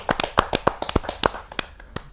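A small audience at a Hindi poetry gathering claps to welcome a performer, with sparse, uneven hand claps close by and no voices.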